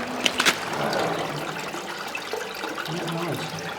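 Fresh mountain water running inside a WWII fortress in France, a soft trickling flow with a few brief splashy clinks near the start, faint and close.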